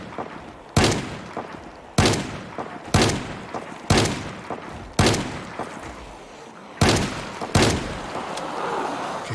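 Gunshots ring out one at a time in the zombie survival game Project Zomboid inside a mall, six loud sharp blasts at roughly one-second intervals, each with a brief echoing tail, with no talking.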